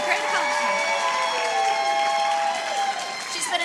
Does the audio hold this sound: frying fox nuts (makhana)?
no